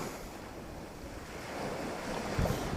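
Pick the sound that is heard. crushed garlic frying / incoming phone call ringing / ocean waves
ocean waves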